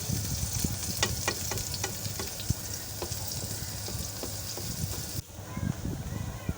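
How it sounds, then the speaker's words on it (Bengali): Ingredients for muri being stirred and fried in a pan, a loud steady sizzle broken by repeated scraping stirs, ending in a sudden drop and a few final clinks. "আমি এগুলোকে সুন্দর করে নেড়ে নিচ্ছি।"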